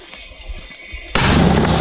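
A single loud gunshot bursts out on the Bakhmut front after a stretch of quiet background, its roar lingering and filling the rest of the moment.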